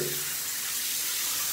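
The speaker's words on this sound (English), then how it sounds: "あとこれ水圧がものすごく強いんですよ" A strong, high-pressure hotel shower sprays continuously, making a loud, even hiss of rushing water with no pauses.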